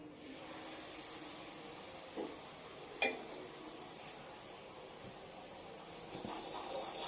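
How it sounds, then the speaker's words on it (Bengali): Luchi fry in hot oil with a steady, close hiss and sizzle and a few faint pops, continuing with no talk. "আর এখানে একটু লুচি ভাজছি"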